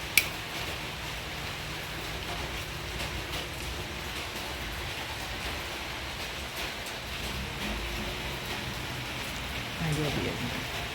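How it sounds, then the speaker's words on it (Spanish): Steady rain falls in the morning in the Dominican Republic as an even, soft hiss that runs throughout without a break, heard from indoors with only a faint thump near the start. "Amaneció lloviendo."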